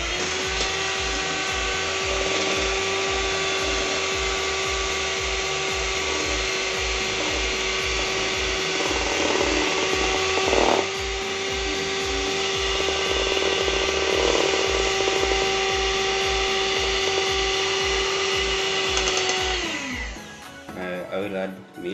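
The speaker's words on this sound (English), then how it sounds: "Now we whisk them." Two eggs are whisked together for fluffy pancake batter, making a steady whirring drone that holds for about twenty seconds before cutting off.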